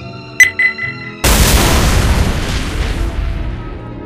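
A grenade blows up in Garry's Mod: a few short electronic beeps, then one loud booming blast that rumbles and slowly fades over a few seconds.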